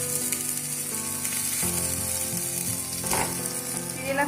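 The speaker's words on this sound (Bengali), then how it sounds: "মিশ্রণটাকে ভালোভাবে কষিয়ে নিয়েছি।" Spice paste with ground green chillies sizzles steadily as it fries in a pan for palak paneer, with stirring scrapes surfacing now and then. It is close and continuous, with no talking.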